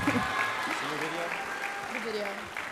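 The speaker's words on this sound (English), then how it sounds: "Give her a round of applause." Audience applause in a school assembly, steady and moderately loud clapping throughout with voices and chatter mixed in.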